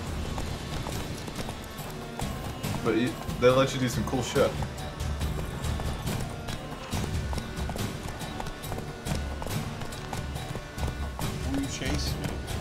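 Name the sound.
horse Roach galloping hooves in the video game The Witcher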